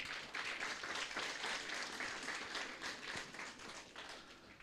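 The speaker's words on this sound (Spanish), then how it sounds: "por favor, vamos a dar fuertes aplausos." A church congregation applauding during a Sunday service, many hands clapping in a thick, even patter at moderate volume for nearly five seconds, tapering slightly at the end.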